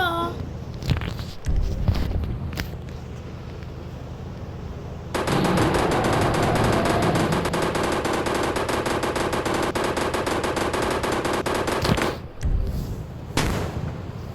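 Sustained minigun fire in a Jurassic Park escape video game, a dense continuous burst of about seven seconds that follows scattered shots and is itself followed by a few more, loud and close.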